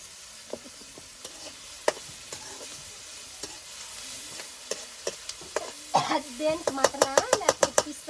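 Ginger garlic paste fries in a pan over a wood fire with a constant crackling sizzle. A spoon taps and scrapes the pan at irregular intervals, then speeds into a quick run of metallic clinks at the end. A voice is briefly audible underneath.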